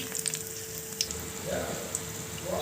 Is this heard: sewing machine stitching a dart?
no